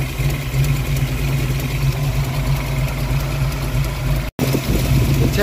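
A Mustang V8 engine idles steadily with a rocker tapping on the driver's side, a constant close rumble with one brief cut near the end.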